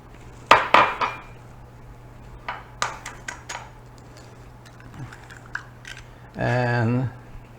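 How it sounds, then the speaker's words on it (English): Two eggs are cracked into a bowl of boxed Jiffy cornbread mix, making sharp close clicks and taps against the rim with small clatters in between, followed by a brief hum and a sustained buzzy noise near the end. "next I'm going to add 2 eggs."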